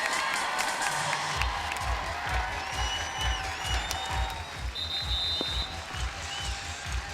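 A capacity beach volleyball crowd in Huntington Beach cheers and applauds as a player is introduced, a loud, sustained roar with whoops and rhythmic clapping throughout.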